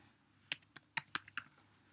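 Someone types a surname on a computer keyboard while filling in a visa application form. About eight crisp, close key clicks come in a quick, uneven burst, with no talking.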